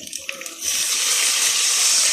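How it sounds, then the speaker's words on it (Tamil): Water poured into a cooking pot for rice, a short clatter followed by a steady close rushing pour that continues to the end. "இப்போ நம்ம தண்ணி ஆட் பண்ணிக்கலாம்."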